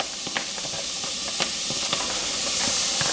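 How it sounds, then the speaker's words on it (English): Onions sizzling in a hot pan with a little water, a steady bright hiss with scattered small pops and crackles, close and continuous throughout. "So you hear that sizzle?"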